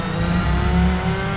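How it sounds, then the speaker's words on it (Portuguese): A Mitsubishi Lancer Evolution engine in the PS2 game Toca Race Driver 3 revs steadily at high pitch with a buzzing, race-like tone, loud and close throughout the short burst. "Escutem só o som desse carro."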